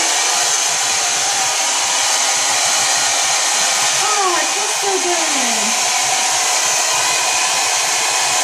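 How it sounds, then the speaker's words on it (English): A hair dryer blows with a steady, loud whoosh from start to finish, and a voice speaks briefly over it partway through. "But I'm still going to put my hair dryer on, okay?"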